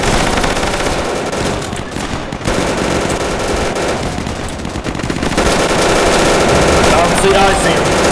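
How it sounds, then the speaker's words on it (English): A heavy machine gun fires in a battle video game, loud sustained bursts of automatic fire with dense explosions, steady throughout and without talk. "We got a heavy MG in this building."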